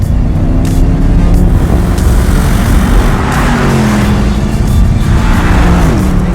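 2019 Porsche Panamera GTS with its biturbo V8 pulling hard, engine note rising through gears with shift dips and a loud, close, continuous roar, no talking.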